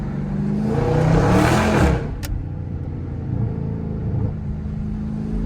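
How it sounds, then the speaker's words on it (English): A car engine roars loudly and steadily, then drops to a lower, continuous rumble with a brief sharp click in the middle. "Now I hear a car, truck."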